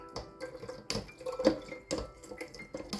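Soaked paper pulp for papier-mâché squeezed by hand, releasing wet squelches and trickling, dripping water in several uneven bursts, close and fairly quiet with no talking.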